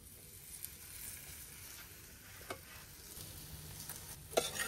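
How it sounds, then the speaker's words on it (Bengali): A paratha fries in oil in a pan with a soft, quiet sizzle and a few faint clicks and light knocks, heard close with no talking. "আমার একটা পরোটা ভাজা শেষ।"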